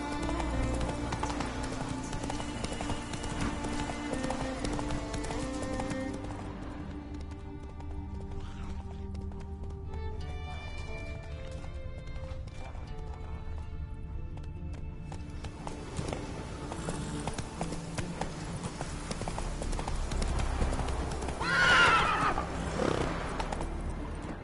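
The horse Roach gallops in The Witcher 3, with steady hoofbeats under game music and a neigh rising near the end, moderately loud and close.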